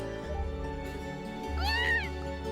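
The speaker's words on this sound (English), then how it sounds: "I guess that's about as much as a cat can tell me." A single rising-falling cat meow in the video game Trails of Cold Steel cuts through a looping background music track.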